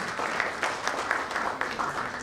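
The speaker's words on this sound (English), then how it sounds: "can we please have a huge round of applause?" A seminar audience at a doctor-patient network event breaks into a steady round of applause, dense overlapping claps filling the room at moderate level with no speech over it.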